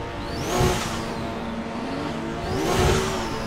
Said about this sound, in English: Someone's going ape shit with their engine, and it's kind of funny.